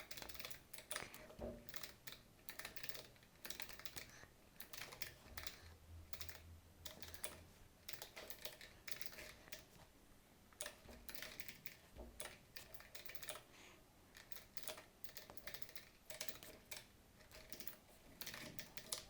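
Fingers type code on a computer keyboard while writing a Solidity function, a fast, steady clatter of close key presses continuing without pause and with no talking.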